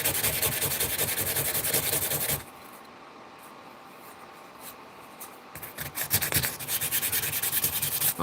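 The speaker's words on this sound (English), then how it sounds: "All I got to do is sand this top." Sandpaper rubbing across the top of a custom-made stonewashed fighting knife blade, a steady close scratchy rasping that stops for a few seconds of near silence midway, then resumes in quicker strokes.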